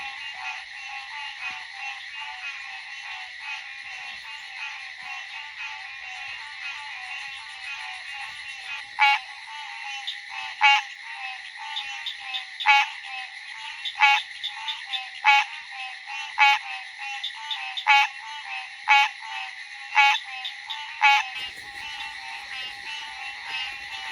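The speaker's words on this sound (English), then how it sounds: "And look here, we got a Green frog" A green frog calls outdoors with a series of short, sharp croaks repeated at a fairly regular pace. The calls sit over a constant chorus of other frogs and insects, with no talking.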